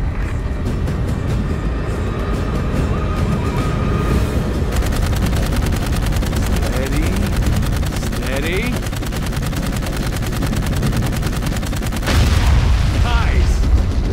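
Jetpack-mounted guns firing in the Dark Void game, a long run of rapid, evenly spaced automatic shots with heavy booms and a louder burst near the end, over game noise.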